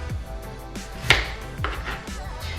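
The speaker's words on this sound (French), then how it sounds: "Maintenant, je vais les couper en gros morceaux." A knife chops peeled potatoes into chunks on a board, giving a handful of sharp, irregularly spaced knocks over a quiet kitchen background.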